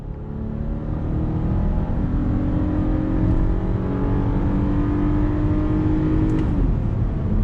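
A 2021 VW Atlas Cross Sport SUV with a naturally aspirated V6 accelerating on throttle, heard from inside as a steady, rising engine drone over road noise, smooth and continuous for several seconds.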